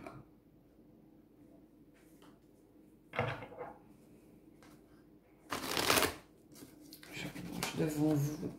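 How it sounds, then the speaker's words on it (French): Santa Muerte tarot cards are shuffled and handled close by, with soft riffles and two louder bursts of card shuffling, while quiet French speech carries on faintly underneath. "je vais couper, étaler et prendre mes cartes comme ça parce que en plus c'est les cartes du Santa Muerte"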